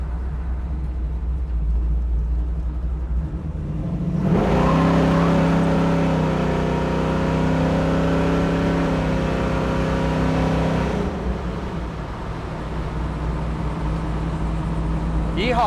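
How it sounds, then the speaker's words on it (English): A 1969 Chevrolet Camaro muscle car engine idling with a deep rumble, then revved and held high for several seconds before settling back, loud and close, with someone talking over parts. "That's the sound of a muscle car."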